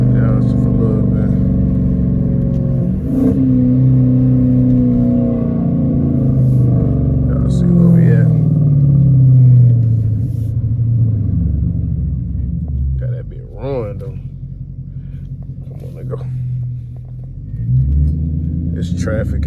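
Catless Dodge Challenger R/T driven in traffic, its exhaust giving a deep, loud rumbling drone that rises and falls as the engine revs and settles, with occasional brief sharper bursts.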